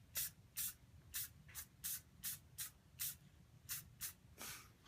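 Cheap hairspray from an aerosol can sprays a small bottle brush tree indoors in about ten short, evenly spaced hissing bursts, close and distinct, with no talking.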